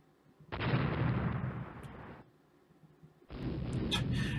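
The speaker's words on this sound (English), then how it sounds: "Someone took time to fire at the merchant ship." Naval guns firing in a warship battle simulation, two long booming salvos that rumble heavily for a second or more each, separated by a quiet gap, with faint sharp pops over the second.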